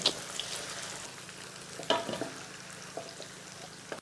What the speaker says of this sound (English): Now I'm stirring my kelewele